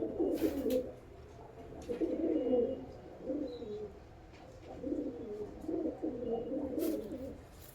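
Male pigeons of fancy breeds coo in a series of low, throaty, rolling phrases, several bursts spaced over a few seconds, close by and fairly soft.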